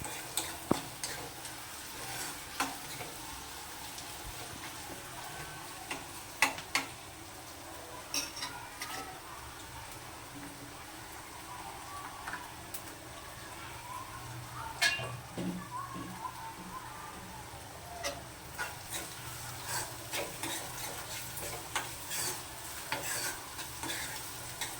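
Taro root pieces being stirred in a cooking pan, with a soft sizzle underneath and scattered scraping and clinking from the spoon. There are occasional quiet sounds, but no clear talking.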